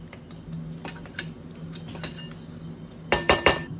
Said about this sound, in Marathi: हे मिश्रण चांगलं एक जीव होईपर्यंत मी परतून घेते